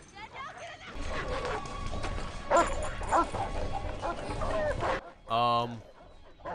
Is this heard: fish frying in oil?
no